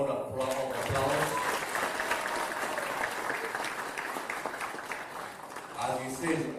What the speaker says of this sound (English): Let me give him a loud applause